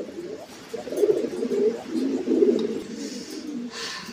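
Fancy pigeons coo in a low, throaty rolling pattern, two long bursts of soft repeated calls close by, over faint background noise and no talk.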